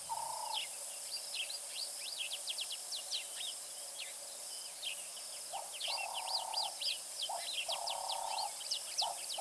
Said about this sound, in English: You can hear the wonderful Cape turtle dove in the background.